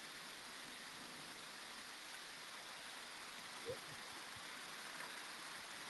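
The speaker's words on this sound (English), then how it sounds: "Look at the hail too. You can see all the hail coming down." Hail coming down outdoors during a thunderstorm, a faint, even hiss of falling ice with a couple of soft nearby knocks, steady and continuous throughout.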